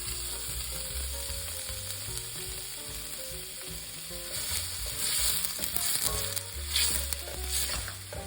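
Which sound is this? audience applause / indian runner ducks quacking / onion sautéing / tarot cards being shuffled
onion sautéing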